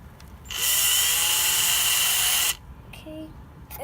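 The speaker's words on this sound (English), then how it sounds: "I will be drilling a hole through this right here." A power drill bores a hole through a Ford F-150 cup holder in one steady, loud two-second whine that starts and stops abruptly, followed by a few small clicks and handling sounds.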